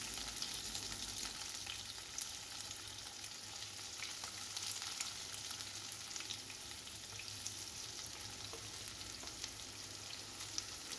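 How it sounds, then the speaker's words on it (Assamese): Onion and green chilli fry in hot oil, a steady close sizzle that holds evenly throughout with faint crackles and no voices. "এতিয়া তেলখিনি যেতিয়া গৰম হৈছে এয়া পিঁয়াজ দি দিছোঁ আৰু জলকীয়াও লগতে দি দিম।"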